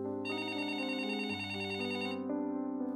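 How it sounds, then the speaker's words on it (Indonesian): A telephone rings steadily for about three seconds in an Indonesian horror audio drama, a bright, sustained electronic ringtone with layered harmonic tones that shift pitch midway, heard alone and close. "telepon dari Anindita masuk"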